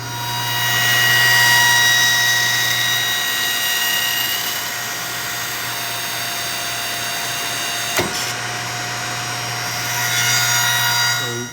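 A baler compresses a load of cardboard boxes. Its machinery gives a loud, steady drone with a strong low hum, and one sharp click sounds partway through, with no voices.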